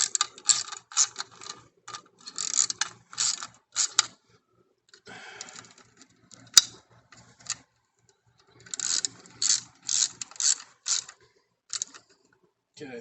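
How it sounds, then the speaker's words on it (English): A ratchet wrench clicks in rapid bursts of dry, close ticking, quick runs of clicks separated by short pauses, fairly faint. "this is the worst ratchet in the world"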